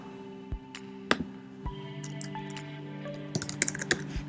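Typing a file name on a computer keyboard, scattered individual key clicks at first, then a quicker burst of taps, close and fairly quiet with no talk.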